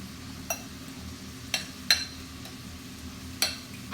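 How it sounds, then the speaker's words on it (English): Waffle batter mixed with water in a bowl, a utensil knocking the sides in a few sparse, soft taps over a quiet background, close and faint. "I'm going to go ahead and put it in here and give it a mix until it's smooth"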